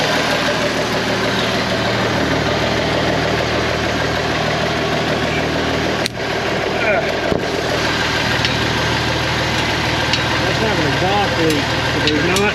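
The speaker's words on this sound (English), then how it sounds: "Exhaust leak, so there's not enough back pressure to hold that up. That's fine. Whatever. Let's let it idle" An abandoned IH 4166 tractor diesel engine idles with an exhaust leak, a loud, steady, rough throbbing drone close by, unbroken throughout, with faint rain or dripping in the background.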